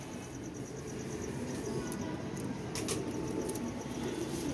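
Pigeons coo softly in the background, faint and steady, with light insect-like chirps and a couple of brief higher calls, and no talk.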